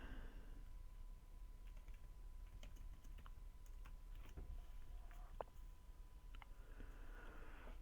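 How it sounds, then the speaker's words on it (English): Keyboard typing during a Crazyhouse online chess session, scattered clicks and key taps at a moderate distance over a steady low hum, no voices. "Just typing something."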